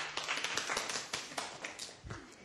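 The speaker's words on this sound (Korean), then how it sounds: "박수 한번 쳐줄까요?" A lecture audience claps faintly: scattered, uneven hand claps and taps sound from some distance, thin and quiet rather than a full ovation.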